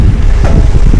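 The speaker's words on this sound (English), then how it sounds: "the wind's really picked up today" Strong wind buffeting a microphone near the coast on a choppy day, a loud continuous low rumble and roar with no pauses.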